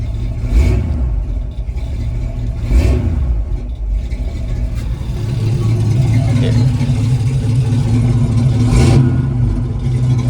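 An old 1969 Buick Special Deluxe engine runs roughly nearby, revving up a few times between lower idle stretches, then settling into a steadier, louder drone toward the end.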